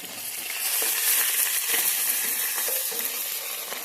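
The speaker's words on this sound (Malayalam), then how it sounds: "നമ്മൾ ആ ചെറുങ്ങനെ അരിഞ്ഞു വെച്ച ഇഞ്ചി വെളുത്തുള്ളി അതിലേക്ക് ആഡ് ചെയ്തിട്ടുണ്ട് നമുക്കൊന്ന് ഇളക്കി കൊടുക്കാം" Finely chopped ginger and garlic fry in a pan, a bright, steady crackling sizzle with scraping stirs and small crunches, close and fairly loud, with no voices.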